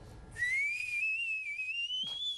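A single high, sustained whistle that slides slightly in pitch over about two seconds, clear and close, with faint background noise and no talking.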